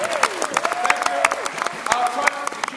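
Audience applause at a live science stage show: a steady patter of many hands clapping through the whole stretch, with a voice talking over it.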